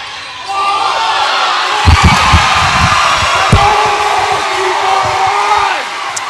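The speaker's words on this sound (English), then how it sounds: "The crowd yelling for a walk." A basketball crowd at a girls' sub-state high school game yells loudly and continuously, with sneaker squeaks and thumps of the bouncing ball mixed into the din.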